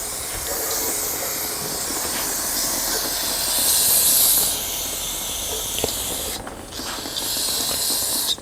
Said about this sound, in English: go ahead and clean up the cylinder with some brake cleaner.